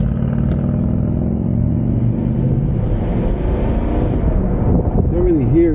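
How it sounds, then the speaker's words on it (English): A 2023 Dodge Durango accelerating, heard from inside with a window open: a low, steady exhaust rumble that builds gradually with wind noise, and a voice talks over it near the end. "Let me open this window so we can hear this exhaust a little bit."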